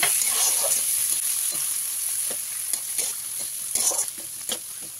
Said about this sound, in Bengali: দিয়ে পেঁয়াজটা ভালো করে ভেজে নেব